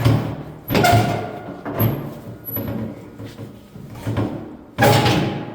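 A door is forced open during firefighter forcible entry training, with several heavy thumps and bangs spaced a second or so apart, the last one loud and close.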